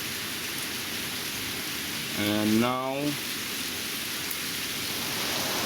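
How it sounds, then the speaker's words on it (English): Heavy spring rain mixed with ice falls in a steady, dense hiss, while a person briefly says a few words partway through. "There's a lot of rain."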